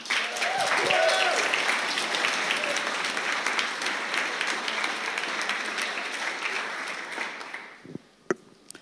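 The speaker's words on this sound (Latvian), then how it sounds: "ja dos skaļus aplaus viņam." A church congregation breaks into loud, sustained applause during a Latvian sermon, dense clapping filling the room steadily for about seven seconds before thinning out into a few scattered final claps, with some voices mixed in early.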